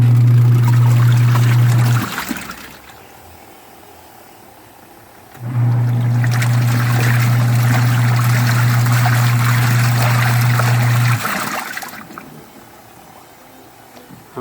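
Water sloshing in a Costway mini washing machine during a wash cycle, loud churning with a motor hum that runs, pauses for a few seconds, then resumes.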